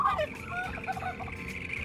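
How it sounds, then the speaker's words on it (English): Wild turkeys gobble in a short, rattling burst of warbling calls amid a busy outdoor chorus of wetland birds in Colorado, moderately loud. "these wetlands are bubbling with the songs of birds, including the gobbles of turkeys"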